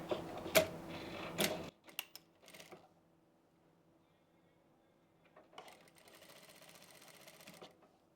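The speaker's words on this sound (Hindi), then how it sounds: "एक सिलाई अब हम यहाँ से लगा लेंगे" A sewing machine stitches the hem of a kurti. Close, rapid mechanical rattling comes in short bursts, then fainter steady stitching follows after quiet pauses.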